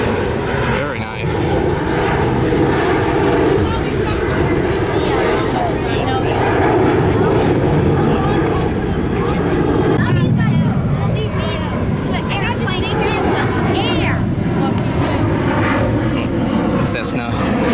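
A small Cessna plane's engine drones steadily at a busy airport, a continuous loud hum with wind-like noise, while people talk in the background.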